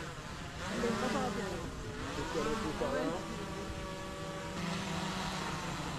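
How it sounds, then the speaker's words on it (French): A drone landing outdoors, its whining rotors shifting pitch as it descends and settles, steady and fairly close under brief talk. "Un bel atterrissage de drone, magnifique."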